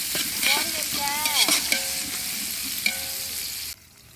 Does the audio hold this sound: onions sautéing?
yes